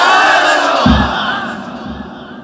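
A large crowd at a Bengali waz sermon shouts a religious chant back in unison. The first loud roar of voices is followed by a second, shorter collective shout that fades into reverberation.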